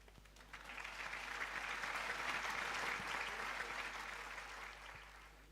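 An audience at a quiz competition claps for a team, a steady wash of applause swelling and then fading over a few seconds, heard quietly from a distance.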